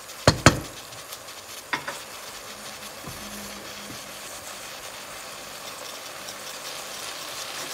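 White rice toasting in a pan while being stirred, with a few sharp clanks of a utensil early on, then a low, steady sizzle running on.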